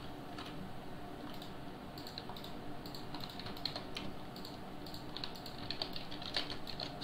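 Computer keyboard keys tapped during a game of Knight Online, light irregular clicks with some quick clusters over a steady low game hum, fairly faint and without talking.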